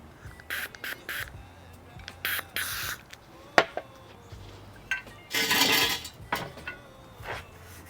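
Several short bursts of spray from a can of Sprayway stainless steel cleaner, separated by quiet gaps and light clinks, with one longer, louder hiss near the middle, close by.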